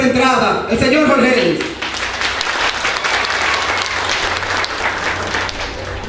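Crowd applause greets the syndic of Senoví arriving at a political campaign event, beginning under a loud voice and then continuing as dense, sustained clapping.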